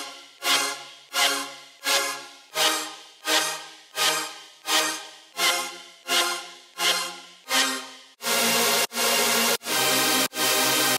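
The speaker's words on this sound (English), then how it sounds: "But the lead group here with saws sounds like this." Lead group of stacked saw synth layers, distorted and detuned, playing a rhythmic run of sharp-attack chords that decay quickly, then shifting into four louder, sustained wide blasts at the end, with no talk.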